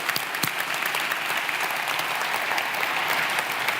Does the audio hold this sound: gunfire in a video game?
no